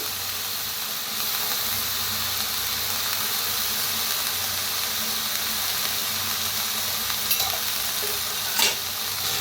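Mixed vegetables with peas roasting in a kadai over a village wood-fired stove, a loud, constant sizzle and hiss with a low rumble beneath and a couple of brief clinks near the end.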